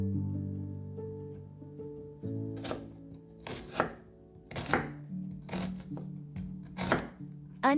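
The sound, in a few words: chopping an onion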